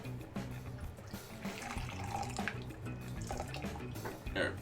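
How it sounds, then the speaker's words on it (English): Hot water runs and splashes into a container for bread dough, a close, bubbling pour with small drips and gurgles that continue throughout. "We're gonna need a little hot water for our bread."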